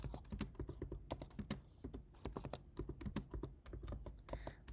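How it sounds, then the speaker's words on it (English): Rapid keystrokes on a keyboard typed with one hand during a springtime plein air painting session among cherry blossoms, irregular clusters of close, crisp clicks with steady rhythm and no talk. "let's see if I can type with one hand"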